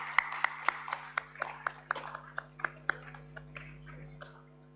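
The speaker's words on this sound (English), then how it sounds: "Let us welcome sir with a huge round of applause, everybody." Scattered hand claps ring out from an audience welcoming a guest at a campus event day, a dozen or so sharp, fairly distinct claps at a steady pace over a steady electrical hum, thinning out toward the end.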